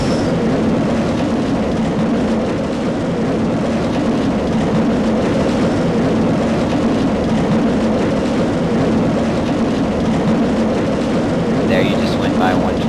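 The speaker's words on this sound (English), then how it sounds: "There you just went by one train." A roller coaster train rushes past in a steady, loud roar of wind and rumbling track noise that holds for the whole stretch, with people talking faintly over it.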